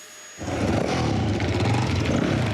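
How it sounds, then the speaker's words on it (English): Motorbikes start up and roar at a family home, a loud rumbling engine noise that kicks in suddenly after a brief quiet moment and then holds steady, up close with no talking. "the roar of bikes fills the air at the Marshalls."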